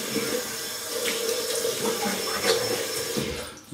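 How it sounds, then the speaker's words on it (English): Cold water runs steadily from a tap while salt is rinsed off, a close, continuous splashing hiss with small irregular splatters as hands move under the stream; no talking. "Wash the salt off with cold water."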